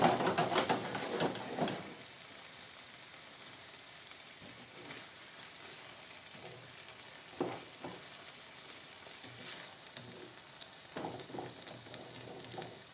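Fish and onions sizzle and stew in a covered frying pan with oil, a soft steady crackle and hiss at low volume, broken by a few brief clatters and stirring noises.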